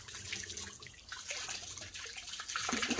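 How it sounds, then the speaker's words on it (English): Mucky water runs out of a fish tub, a close, continuous splashing gurgle that stays fairly even throughout. "I'm just letting the water out because I don't want to transfer the mucky water with it into the other nice clean tub"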